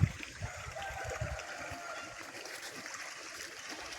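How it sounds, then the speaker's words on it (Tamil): Water flows steadily outdoors, a constant broadband rushing and splashing with a few stronger gurgles near the start. It sounds moderately close and carries on without pause. "பார்த்தீங்களா தண்ணி வருது பாருங்க"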